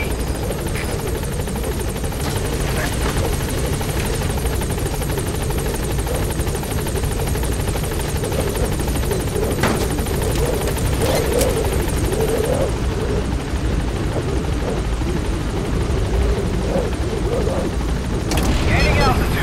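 A military helicopter in Metal Gear Solid V: The Phantom Pain drones loudly and continuously with steady rotor thrum, and a few sharp cracks and bursts break in toward the end.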